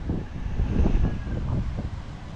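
A strong wind blows in a continuous rushing roar, swelling into gusty low rumbles against the microphone, near and loud, with no talk.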